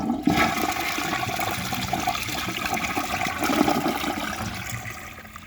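A teal 2004 Vitromex Marathon II toilet flushes with a loud, close rush of swirling water that holds steady and then tapers off near the end, with no voices.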